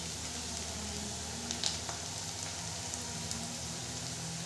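Onions fried red in hot oil sizzle steadily as Kashmiri chili powder goes into the pan, a constant close hiss broken by a few small pops and spatters.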